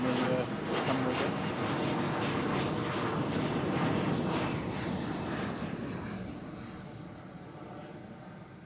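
A KLM jet airliner takes off at Manchester Airport with a short rotation, its engine roar loud and broad at first, then slowly fading as it climbs away, with some wind buffeting.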